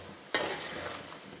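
Slices of raw banana fry in hot oil for Onam chips, a sharp stir or scrape giving way to a soft, continuous sizzle.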